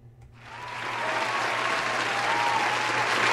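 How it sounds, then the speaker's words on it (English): A soundboard cheering-crowd effect swells in after a brief pause, a dense wash of applause and crowd noise that builds and then holds steady and loud to the end. "We got to get the cheering. Let me see here. Let me open up a soundboard tonight"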